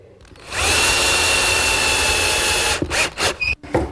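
Power drill drives screws into plywood with glue for a chop saw station, a loud steady whine of about two seconds, then short stuttering bursts as the screw seats, with no talking.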